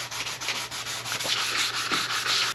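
Fine sandpaper rubs back and forth over a scratched plastic headlight lens on a BMW X5 E70, a close, loud, rhythmic scraping with regular strokes and no speech.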